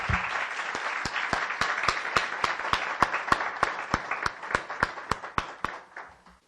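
Church congregation claps in unison, a sharp, evenly spaced beat of loud rhythmic applause over a bed of scattered clapping, tapering off at the close.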